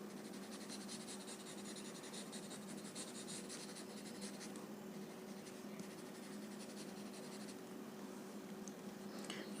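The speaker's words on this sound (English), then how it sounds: "pick up your chalk, and you can always add some chalk where you have not added the graphite" Chalk rubbed across paper while shading a Zentangle whiteout drawing makes a steady, soft, close scratching texture that runs throughout with no talking.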